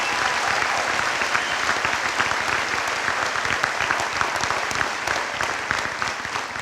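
Graduation audience at a high school ceremony applauding the senior class officers, a dense, steady wash of many hands clapping that holds evenly throughout at moderate distance, with no talk over it.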